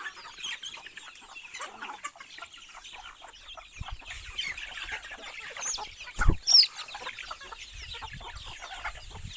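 Chickens cluck and chatter steadily nearby as they are fed, with scattered pecking and rustling sounds and a brief louder knock partway through.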